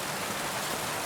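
Steady rain falls in the video game Kingdom Come Deliverance 2, an even, dense hiss of drops on surfaces under an overcast sky, continuous and close throughout with no voices.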